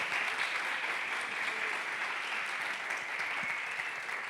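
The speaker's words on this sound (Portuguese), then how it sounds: "Uma salva de palmas para o nosso palestrante." An audience claps for a speaker at a marketing event, steady dense applause filling the room at moderate volume with no voices over it.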